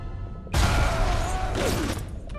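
A sudden loud blast bursts in, followed by a broad roaring rumble with a descending whine, from an explosion in the video game BioShock.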